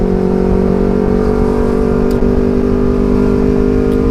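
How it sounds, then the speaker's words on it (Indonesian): A motorcycle fitted with a loud aftermarket racing exhaust rides along, producing a constant, close, droning engine note with strong low rumble and no break or speech. "Apalagi gue nggak pakai apalagi gue pakai knalpot yang racing kayak gini,"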